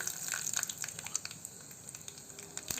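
Spices, curry leaves, green pepper and onion crackle and spit in hot oil for tempering, a busy run of small pops over a steady sizzle, close and fairly quiet.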